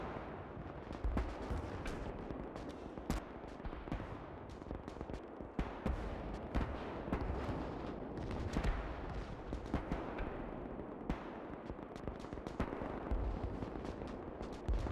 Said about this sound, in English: have a listen to the ambient distant gun sounds for a minute